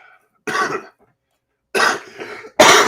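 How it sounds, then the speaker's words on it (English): Two bursts of coughing, one short harsh cough, then a pause, then a longer double cough, close to the mic with no talking. "Just getting over a cough."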